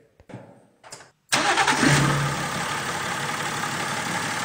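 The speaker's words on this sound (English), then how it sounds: "Okay, let's start the engine." A BMW E61 diesel engine, rigged for a common-rail injector backflow test, cranks briefly after a few clicks and then catches, settling into a loud, steady idle clatter.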